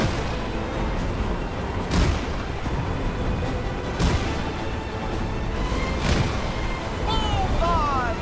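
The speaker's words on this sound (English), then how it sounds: "Let's try those cannons." Cannon fire in a Port Royal battle in Kingdom Hearts 3, with several booming shots at roughly two-second intervals over a constant loud wash of game noise and music.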